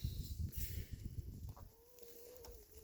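Farm chickens cluck and squawk close by in a barnyard with donkeys and goats, a few short bursts rising over low rustling, then a rooster-like call trailing off near the end.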